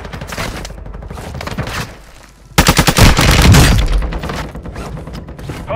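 Gunfire in Warzone 2 on the Vondel map, loud close bursts of automatic shots in rapid succession with mechanical clatter, following a short quieter gap.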